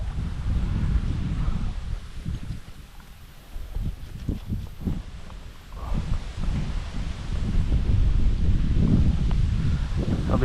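Gusty wind blows outdoors by the water in western Arkansas, a loud, rumbling buffet against the microphone that dips briefly and then surges again, with rustling and a few knocks underneath.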